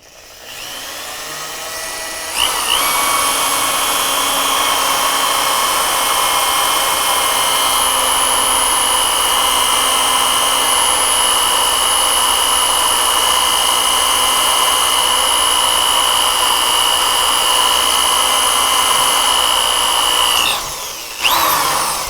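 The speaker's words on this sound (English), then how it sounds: "that's the drill slipping in the chuck, not piercing through a hole." An electric drill is worked into a center-punched hole in old metal, its bit slipping in the chuck and giving a steady, loud high-pitched whine that runs unbroken for about eighteen seconds before stopping.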